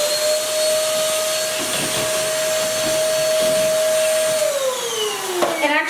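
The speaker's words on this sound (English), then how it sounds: "you're just gonna climb up here and you're gonna vacuum your vent." A vacuum cleaner runs loud and close with a steady high whine while cleaning a bathroom vent fan, then the motor pitch slides downward as it winds down near the end, with rattling bumps.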